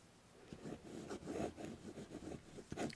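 Noodler's Ahab fountain pen with a Noodler's Flex #6 nib scratching across paper in short strokes, very faint and close, with a few soft rubbing scrapes.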